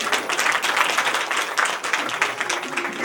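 An audience applauds in a dense, sustained burst of clapping, loud and fairly close, with a voice faintly mixed in under the noise.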